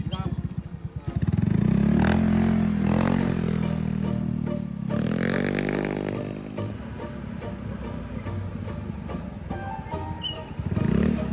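A second-hand Yamaha Mio motorcycle's slipping kick-starter is pushed down repeatedly, with clattering strokes and the engine catching and revving loudly up close.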